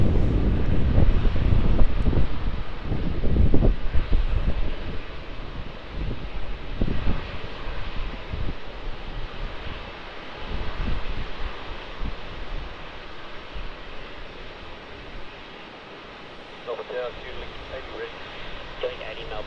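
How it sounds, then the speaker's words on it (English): A Fiji Airways Airbus A330 airliner at Melbourne Airport, a loud broad engine roar with wind buffeting the microphone, easing off gradually over twenty seconds. "This is the real way to end the stream, the Fiji Airways A330."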